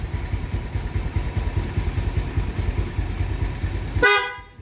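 A 2018 Rosy Neptune motorcycle fitted with a loud bus-style horn, sounding as one steady honk over a running engine before cutting off abruptly near the end.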